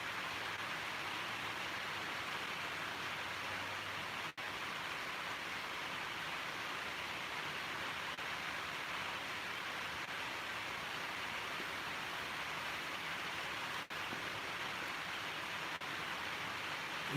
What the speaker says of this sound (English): if that rain gets much harder, I'm gonna have to go inside the house to get out of the noise